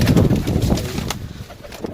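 Pigeons in a dealer's flock coo and rustle close by in a brief, busy burst, with no talking.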